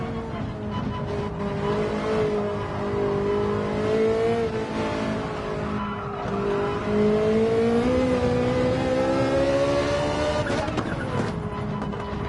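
Ferrari 458 Italia race car in Gran Turismo 7 lapping a wet Spa circuit: a steady, high-pitched engine note that rises and falls with throttle and gear changes, close and continuous throughout.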